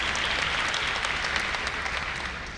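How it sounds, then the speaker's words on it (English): Audience applause at an HIV youth advocacy event, a steady dense wash of clapping that holds for a few seconds and tapers slightly toward the end. "give him an applause"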